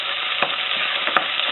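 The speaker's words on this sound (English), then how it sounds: "So after I add the green pepper, I add the sliced onion." Sliced onion and green pepper fry in a pan for pork adobo, giving a loud, dense continuous sizzle close up, with a couple of brief utensil scrapes as they are stirred.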